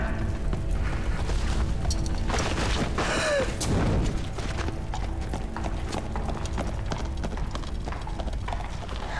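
Horses' hooves clip-clop in a rapid galloping clatter, loud and continuous, mixed with a busy background of movement and commotion.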